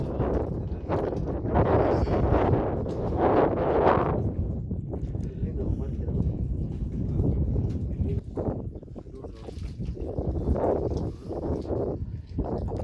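Strong wind at sea buffets the microphone in a steady, heavy low rumble with gusty swells, while people talk over it throughout.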